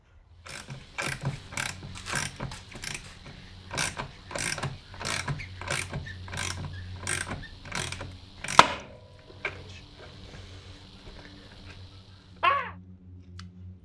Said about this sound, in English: we've got the ball joint puller in place, and we're now going to squeeze that ball joint out of the hub